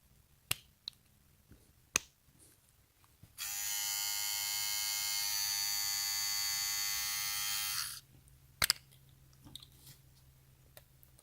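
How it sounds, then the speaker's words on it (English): A Wahl lithium ion hair trimmer motor switches on and buzzes steadily for about four and a half seconds, then stops, with a few sharp clicks of handling before and after. "This is the hair trimmer."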